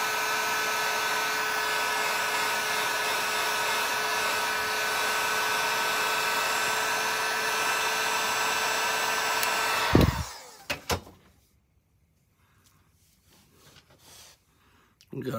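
A heat gun or hair dryer blows a steady loud whir at an action figure for about ten seconds, then cuts off abruptly, leaving near silence with a few faint handling sounds.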